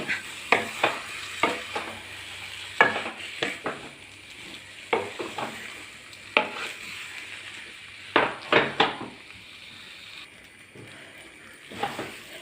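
Green plantain mixture stirred in a pan on the stove, a series of sharp spatula scrapes and taps against the metal over a soft, low sizzle, close and rhythmic, with no voices.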